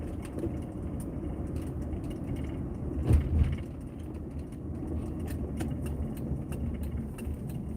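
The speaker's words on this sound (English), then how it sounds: "Why is this car running?" A car engine idles with a steady low hum from nearby, broken by a short clunk around the middle, with no talking.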